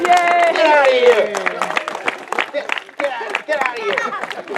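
A round of applause rises with cheering and a voice over it, then breaks into scattered sharp claps and mixed crowd noise, moderately loud and close.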